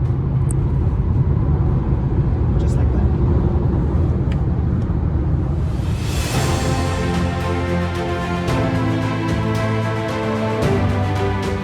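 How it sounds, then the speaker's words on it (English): Volvo C40 Recharge electric crossover accelerating hard, a low rolling rumble of road and wind noise that turns into a brighter, rising whine and rush partway through as speed builds; a voice speaks briefly. "Not only is it silent, but it can also be really quick. This car accelerates really nicely."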